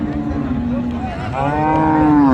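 A loud, close cow moo swells and holds for a couple of seconds, deep and drawn out, over a noisy crowd murmur at a cattle market in Ghoraghat, Dinajpur, Bangladesh.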